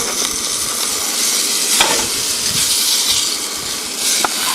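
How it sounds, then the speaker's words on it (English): Willow bark tea boiling in a pot over a campfire in the Alvord Desert, a steady close hiss and bubbling sizzle with occasional crackles. "Marge is not feeling good, so we're boiling her some willow bark tea."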